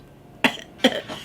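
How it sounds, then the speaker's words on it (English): Two sharp, close coughs about half a second apart, with a faint throaty trail after the second. "I had this cough like throughout the weekend."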